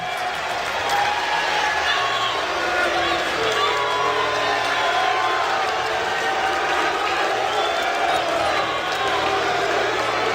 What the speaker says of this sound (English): The crowd appreciating this Cloud9 lineup that Jack has put together.